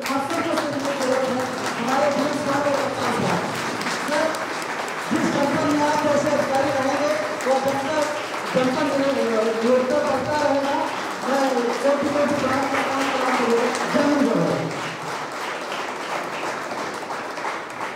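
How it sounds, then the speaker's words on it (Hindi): A standing audience at a traffic-awareness and Mission Shakti event claps loudly in long bursts, with short pauses between them, while a voice keeps talking throughout. "आप सभी लोग खड़े होकर एक बार जोरदार ताली बजाइए।"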